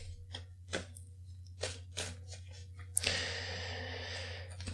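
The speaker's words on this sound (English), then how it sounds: "So I'll just shuffle these cards for Allie." A deck of tarot cards is cut and tapped in a handful of sharp, separate clicks, then riffled in one long continuous burst of papery flutter, close to the microphone.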